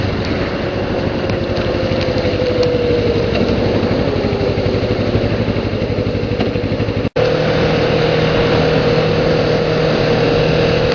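A Kawasaki Ninja 650R's 649cc twin engine drones steadily while the motorcycle rides on a freeway, with constant engine roar and rushing wind noise that cut out very briefly partway through.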